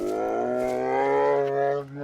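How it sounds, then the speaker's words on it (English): A bear in the video game DayZ lets out a deep, drawn-out growl with a sustained harmonic rumble, close and fairly loud, tapering off at the end. "A bear will sound like this,"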